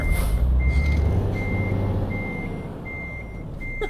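A truck in Euro Truck Simulator 2 sounds its reversing alarm, a steady series of evenly spaced beeps over the low engine rumble, with no talking.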